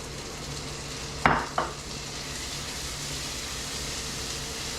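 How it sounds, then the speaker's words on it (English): Two tablespoons of minced garlic sizzle steadily in a hot pan at a truck campsite, with a couple of brief stirring scrapes near the start over the constant frying hiss. "We'll give that a stir here for about a minute"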